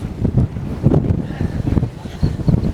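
Strong wind at the Isle of Man TT buffets the microphone in a loud, gusting low rumble that surges and eases throughout.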